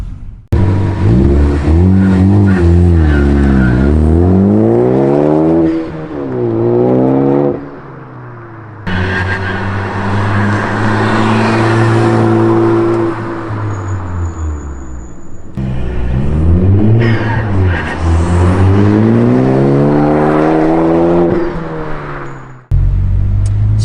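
A Ford Focus ST with an aftermarket catback exhaust revs repeatedly, loud and deep, rising and falling in long pulls with crackling and burbling between, heard from outside at close range.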